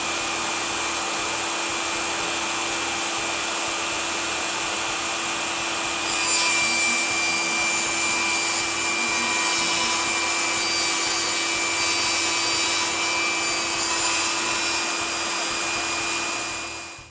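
A Milwaukee Fuel cordless 8-1/4 inch table saw whines steadily and loudly at close range, with its pitch deepening as the blade cuts through plywood for a couple of inches.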